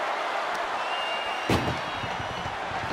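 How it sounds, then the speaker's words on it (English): A wrestler is powerbombed into an ambulance in the WWE 2K24 video game, a single heavy metallic slam landing midway over steady arena crowd noise. "Powerbomb into the ambulance?"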